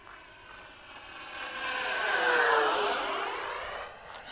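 A Freewing Stinger 90 RC jet airplane flies past, its high whooshing turbine-like whine swelling as it nears and fading away, loud and alone without talk.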